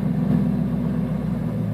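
A Land Rover Discovery with a 3.9 V8 engine idling on LPG at about 800 rpm: a steady, even low rumble with no change in pitch and no talking.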